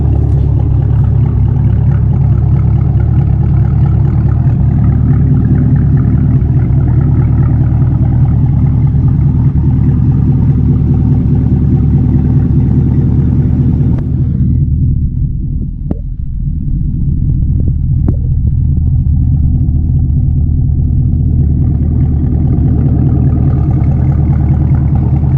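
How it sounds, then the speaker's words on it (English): A 2016-2019 Chevrolet Camaro SS with a muffler delete and AWE Track axle-back exhaust idles close by, a deep, loud, steady V8 rumble with a lumpy burble that briefly dips midway, and no talking over it. "This is it, how it sounds when it's idling"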